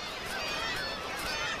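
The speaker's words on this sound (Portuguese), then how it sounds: "As gaivotas tridáctilas passaram um inverno no mar." Kittiwakes call from coastal cliffs where they come ashore in March to breed, a busy colony chorus of overlapping honking cries at a steady faint-to-moderate level with no talk.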